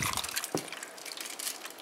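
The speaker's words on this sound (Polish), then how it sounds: "Brytwankę z pasztetem wsadzam w drugą brytwankę i naleję wody." Water poured from a container into a roasting pan that holds a second pan of pâté, a soft splashing trickle with a brief gulp, quiet and close.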